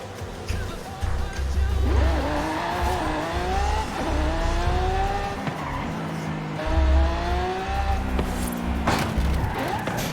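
A race car driving on asphalt in Forza Horizon 5, its engine revving through rising and falling gear sweeps with tire squeal and skidding, close and loud, with a voice briefly underneath.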